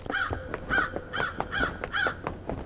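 Crows in the video game Paradise Killer caw repeatedly in a steady rhythm, about five harsh calls close up and clear with no talking over them.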